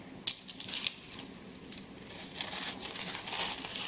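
Scissors snip through a plain sheet of paper in a few crisp, papery cuts and rustles, close to the mic, with a softer stretch of crinkling handling toward the end.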